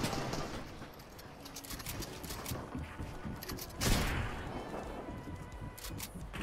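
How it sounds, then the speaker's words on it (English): Gunfire in a Fortnite match, rapid bursts of shots rattling steadily with a louder blast near the middle, coming from above the player. "people shooting us from above."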